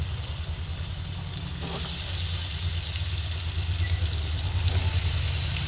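Potatoes and pumpkin frying together in a pan, a loud, continuous sizzling hiss that swells slightly after the first moments and stays steady.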